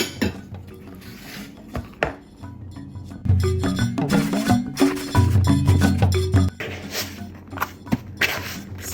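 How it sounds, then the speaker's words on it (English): A spoon working flour and plain vegan yogurt into a dough in a mixing bowl for garlic naan, close irregular scraping, thudding and knocking strokes that grow busier midway. "Combine the flour and all of the yogurt. So this is plain vegan yogurt into a mixing bowl and stir it with a spoon."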